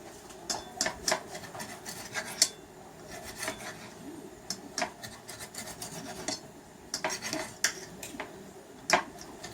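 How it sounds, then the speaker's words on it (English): A knife saws through cooked steak on a board beside a pan, giving repeated short rasping strokes and light clinks in irregular bursts, close and fairly quiet, with no talking. "Okay, I'm going to take a steak out, I'm going to cut it up and put it back in this pan."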